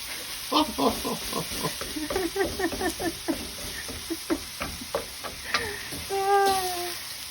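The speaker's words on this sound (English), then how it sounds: "Now we're just gonna toss this around for a couple of minutes." Turkey fried rice with corn and peas is tossed in a pan, making a steady run of clattering stirs and soft sizzling near the listener, while a voice talks in the background.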